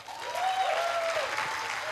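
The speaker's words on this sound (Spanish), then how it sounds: "Denle un aplauso al Señor." A church congregation applauds during a sermon, giving a steady, moderately loud wash of clapping that swells and holds, with a thin tonal sound lingering faintly in the background.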